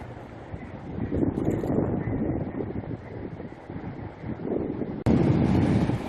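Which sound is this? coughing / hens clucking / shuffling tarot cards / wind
wind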